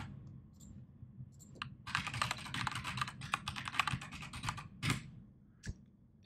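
Fingers type a web address on a computer keyboard in quick, close clicking bursts, with brief pauses between runs of keystrokes and a few louder single taps near the end.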